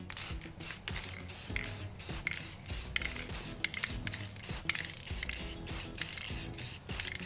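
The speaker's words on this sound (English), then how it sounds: "a little black satin spray paint for the carpet" A can of black satin spray paint sprays onto carpet on a subwoofer enclosure in repeated short hissing bursts, close and steady, with faint rubbing between the sprays and no talking.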